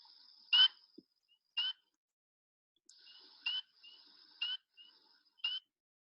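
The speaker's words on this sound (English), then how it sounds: "It is the good old spring peepers." Recorded spring peeper frogs give sharp, high piping chirps, about six clear peeps spaced irregularly with silent gaps, crisp and isolated against a quiet background.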